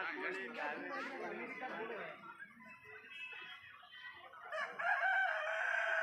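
Several chickens cluck and a rooster crows amid a crowd of chattering voices at the Dharwad agricultural fair, the birds fairly close and clear.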